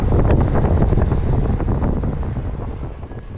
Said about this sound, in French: Je vais vous faire écouter le vent juste là tout de suite pour que vous vous rendiez compte comment ça soufflait